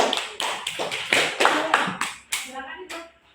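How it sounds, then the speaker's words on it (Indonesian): A classroom of students claps for a student group, a quick uneven run of hand claps that starts loud and tapers off over a few seconds, with a voice speaking briefly toward the end. "beri tepuk tangan untuk kelompok"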